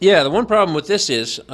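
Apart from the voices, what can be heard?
No distinct noise like a dog, phone or traffic.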